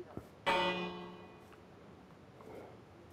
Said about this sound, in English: I keep hitting the bell because there's a trophy for ringing the bell.